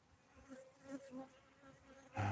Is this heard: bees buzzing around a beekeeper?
yes